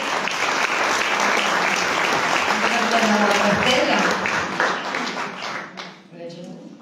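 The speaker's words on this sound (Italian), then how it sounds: "ancora un applauso per lei" Sustained audience applause fills a hall at an award ceremony in Canosa di Puglia, loud and dense throughout, with a voice speaking over it before the clapping thins out near the end.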